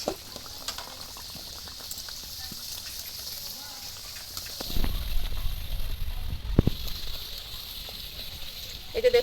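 Nimki dough dropped into hot oil in a wok sets off a bubbling fry that swells midway into a louder, busier sizzle, close by with a voice talking over it.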